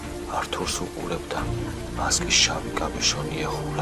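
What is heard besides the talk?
rain falling, sound effect in narrated story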